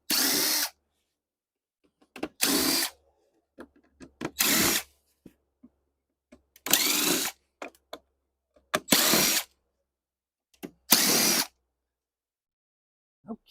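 Power drill backing screws out of the bottom of a Keurig coffee maker, six separate bursts of whirring a second or two apart, each loud and close with silence between.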